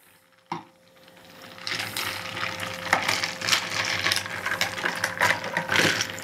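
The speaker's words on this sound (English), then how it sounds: "we're going to give it a gentle stir" A spoon gently stirs a Corona cocktail topped with Sprite, producing a soft, continuous run of clinking and scraping against the glass after a single sharp tap near the start.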